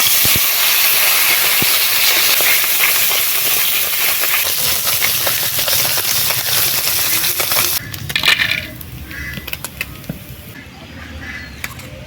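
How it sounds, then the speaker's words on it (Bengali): A loud, dense hiss of fish hitting hot oil in a wok fills the first part with crackling spatters, then drops to a quieter sizzle with occasional pops. "তেল গরম হয়ে গেছে মাছগুলো দিয়ে দিচ্ছি"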